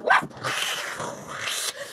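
A small dog gives a quick high yip, then a longer whiny bark-like vocalization, close and fairly loud.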